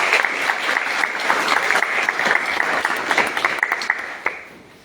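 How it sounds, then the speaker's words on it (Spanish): An audience applauds together after a speaker is introduced at a panel discussion, a dense, steady clapping that lasts several seconds and thins out near the end. "Le damos un aplauso."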